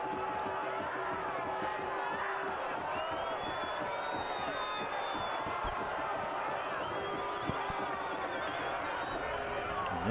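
Large stadium crowd at Keyworth Stadium during a professional soccer match, a steady broad roar of many voices with scattered shouts and whistles, loud and sustained throughout as fans voice displeasure.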